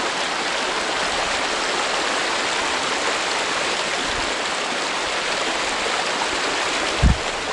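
Creek water rushing along a mountain trail, a loud, continuous broadband wash close by with a brief thump near the end.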